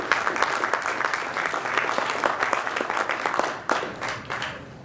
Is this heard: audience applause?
yes